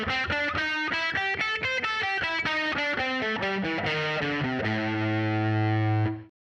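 Distorted electric guitar plays a quick descending blues-scale lick in A that leans on the flat five, ending on a held, ringing note that fades out.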